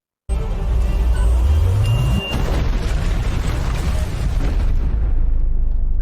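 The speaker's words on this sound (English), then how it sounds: "Oh, it's a bomb." A bomb blast in the TV drama Justice in the Dark, a loud, sudden deep boom followed by a long, rumbling roar that fills the scene and slowly trails off, with no voices.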